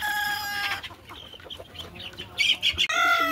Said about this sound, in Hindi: गोल्डन प्योर नस्ल की गोल्डन मुर्गी है हमारे पास ये माशाल्लाह